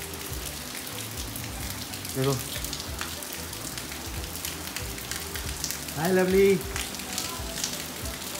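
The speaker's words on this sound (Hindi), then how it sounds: "और बाहर तो तगड़ी बारिश हो गई यार" Heavy rain pours down outside, a steady hiss of drops on surfaces running throughout, with a couple of brief louder bumps and someone speaking over it.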